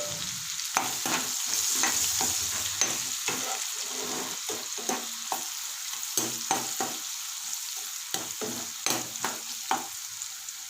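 Onions and turmeric fry in hot oil with a continuous sizzle, while a spatula scrapes and taps the pan in irregular, frequent strokes, heard up close with no one talking.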